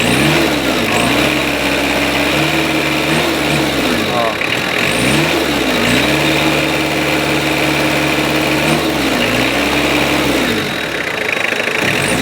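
An old-model car engine revs continuously and loudly, the pitch rising and falling in repeated surges as the motor is gunned, with a steady rough rumble throughout, the engine vibrating and radiator water spurting.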